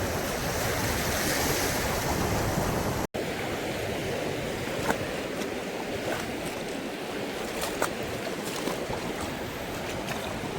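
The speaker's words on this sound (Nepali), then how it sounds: "हामी लिटरली नै अब समुद्रमा आइसक्यौँ" Sea waves washing onto the shore in a continuous rushing roar mixed with wind buffeting the microphone, with a brief dropout partway through and no talking.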